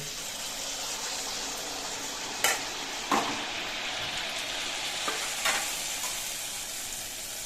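Malpua batter ladled into hot oil fries with a steady, even hiss, broken by a few brief sharper pops and spatters.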